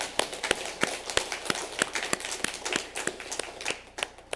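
A church congregation at a Sunday service claps in a steady rhythm, a firm beat of sharp hand claps with a thinner patter around it, moderately close and without talk.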